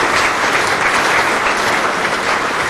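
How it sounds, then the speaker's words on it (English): A magic and mind-games show audience breaks into dense, loud, continuous applause for volunteers returning to their seats. It is a full crowd sound with no talking. "Give them a round of applause over here"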